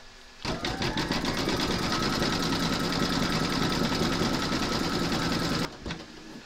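An embroidery machine stitches a dark grey scarecrow mouth applique in the hoop, giving one steady, fast mechanical chatter that starts abruptly, runs evenly for about five seconds close by, then stops.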